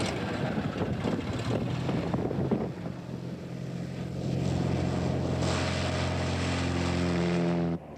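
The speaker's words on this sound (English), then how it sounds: "we decided to extend the experiment to flying an airplane" A propeller airplane in flight, a continuous loud engine drone whose steady tonal hum grows clearer and more even over several seconds, with no talking.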